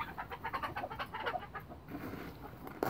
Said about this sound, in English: Chickens find it very funny.